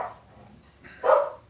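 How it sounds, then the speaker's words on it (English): Dogs bark in the background of a workshop: one clear, moderately loud bark after a quieter yelp, with no speech. "Sorry about the dogs."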